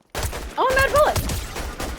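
Rapid automatic gunfire from a Fortnite match, a loud burst near the listener with mixed game effects, players chattering over it.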